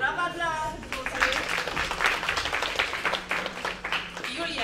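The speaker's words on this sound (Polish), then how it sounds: "Brawa dla Zuzi." A short round of clapping from a group, likely children, during a Polish activity session; uneven claps follow a brief spoken line and continue with voices in the background.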